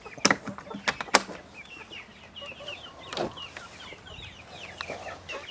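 Garden chickens, little chicks among them, cluck and chatter while being fed, with soft scattered calls and a few sharp knocks near the start.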